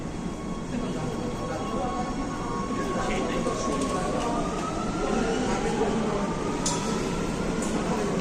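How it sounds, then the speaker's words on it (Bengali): A metro train at a station in Rome, with a continuous loud, low rumble and a slowly rising electric whine as it moves nearby. Voices can be heard faintly in the background. "এইটা আমাদের মেট্রো লাইন, এখানে আমার মেট্রোটা আসবে"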